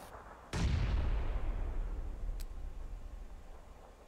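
A grenade blast in the battle royale shooter PUBG: one sudden loud boom with a long rumbling low decay fading over several seconds, followed by a faint brief crack, no talk.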